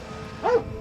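A single short dog bark rings out from a 1992 science-fiction film soundtrack, mid-loud over a quiet background.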